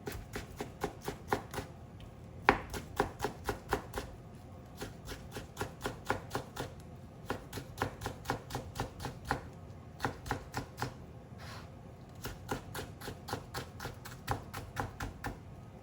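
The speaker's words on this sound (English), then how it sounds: "I enjoy cutting cucumber, so I will cut it thin." A knife slices thinly through cucumber on a cutting board, sending out quick, even taps in steady bursts with short pauses between runs. The sound is close and clean, with no talking.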